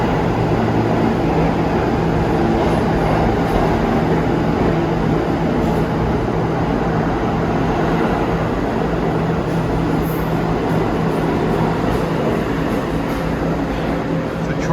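An R46 New York subway train pulls in and terminates at Euclid Avenue station, a loud, steady rumble and hum of wheels and motors filling the platform without letup.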